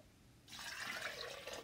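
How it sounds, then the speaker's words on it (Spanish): Tap water pouring into a cooking pot for noodle soup, a steady close splashing fill that begins suddenly and runs on without pause, fairly soft, with no talking. "Ahora voy a poner agua"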